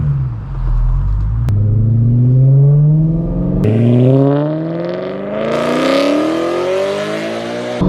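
A straight-piped, Gintani-tuned BMW M3 E92 V8 with a DCT gearbox pulls away, loud and close, its engine note climbing through several rising revs and shifts, ending in a raspy high-rev roar.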